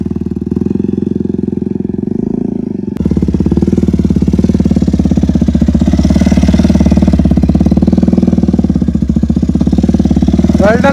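A motorcycle engine runs loud and close during wheelie braking practice, a steady throbbing chug that jumps up in intensity after a few seconds and holds under load, with a voice calling out faintly over it.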